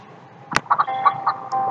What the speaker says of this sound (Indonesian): Ini ayam putih.